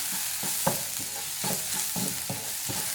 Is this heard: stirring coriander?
yes